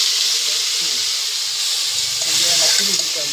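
Garlic and chili sizzle in hot oil with mustard seeds already in the pan, a steady close hiss with faint crackles throughout and a voice speaking over it.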